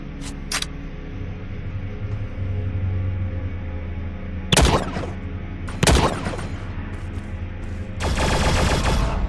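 Gunfire from allied robots in The Signal From Tölva, an open-world sci-fi shooter, comes as sharp bursts of automatic fire. A brief burst opens the clip, two louder volleys follow midway, and a sustained barrage closes it over a steady low hum.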